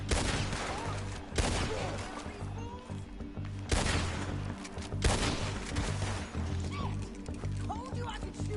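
Several loud gunshots boom out from a console video game, separated by a second or so, each with a harsh crack and decaying tail, while voices talk underneath.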